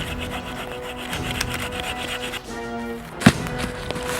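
A hand saw cuts through a wooden log in a forest camp, with steady rasping back-and-forth strokes close by and a sharp knock near the end, no talking.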